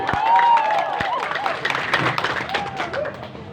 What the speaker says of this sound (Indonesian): kita kasih tepuk tangan lagi lah untuk semua calon bupati